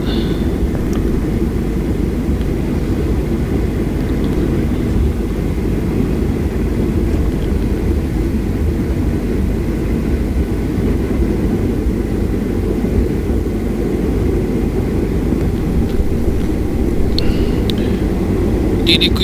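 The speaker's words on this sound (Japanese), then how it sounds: "飛行機で離陸いたします。" A steady, loud low roar of jet engines fills the whole stretch, a constant rumble with no breaks, heard from a plane's cabin during takeoff from Naha Airport.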